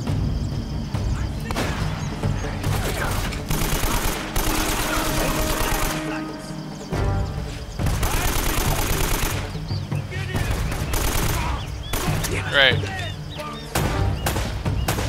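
Rapid automatic gunfire and single shots from the video game Uncharted: Drake's Fortune rattle in dense bursts with short pauses, loud and continuous across the stretch, mixed with game effects and a voice speaking over the action.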